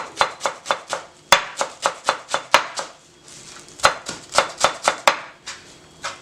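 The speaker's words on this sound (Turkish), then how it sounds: "Maydanozu şu şekilde büküyorum. Ve doğruyorum." Parsley chopped with a knife on a cutting board for a burrito filling, sharp, close knocks in quick rhythmic runs, pausing briefly in the middle before another fast burst.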